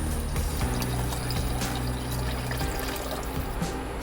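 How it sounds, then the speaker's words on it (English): Water pours steadily into a pot of mixed yellow lentils for moong dal, a continuous close trickling splash with faint kitchen clatter and no talking. "Now we are going to add some water."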